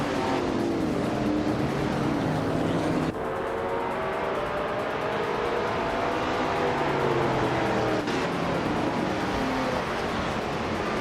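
A pack of race cars launches in a racing video game, a loud continuous engine roar with layered whining motors shifting pitch and abrupt changes in tone.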